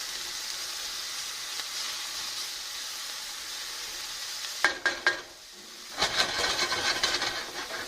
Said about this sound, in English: We'll just give these a stir. You can see they're starting to brown a bit.